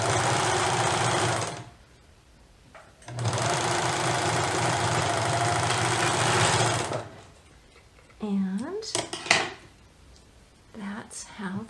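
A sewing machine stitching a neckband runs in two long, steady whirring bursts separated by a short pause. It then falls quiet while a person speaks briefly.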